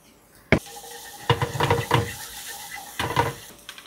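Minced garlic tossed into hot oil in a pan for a pork belly stir-fry with shrimp paste, with sharp clanks of utensil on pan and a soft sizzle in between, no talking.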